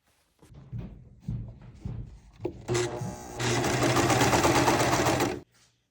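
A sewing machine stitches a jacket side seam along the armpit, starting with a few soft taps and short runs, then a loud, steady, close whirring stitch that stops abruptly.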